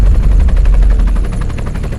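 A helicopter flies close by, its rotor beating in a steady rapid thump over a heavy low engine drone, loud and constant with no voices.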